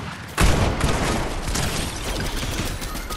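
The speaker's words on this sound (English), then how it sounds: "I just started shooting the boss, too." Gunfire rings out in Fortnite Battle Royale as a boss is shot, starting with a sudden loud blast and continuing as a dense, sustained rattle of rapid shots.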